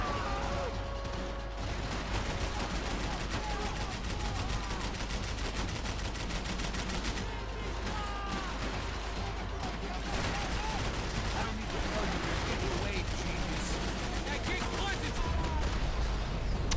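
A golden machine gun firing in the Max Payne 3 video game, dense continuous rattling bursts with crashes and mechanical clatter, loud and sustained throughout, with a voice speaking over the game sounds.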